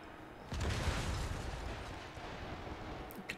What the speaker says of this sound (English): You could still hear all the explosions.